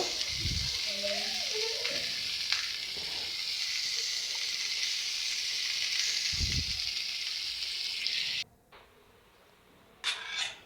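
Potatoes and flat beans fry in oil with a steady, bright sizzle and a few scrapes of a spatula; a brief voice cuts in early, and the sizzle suddenly drops away near the end before a short clatter.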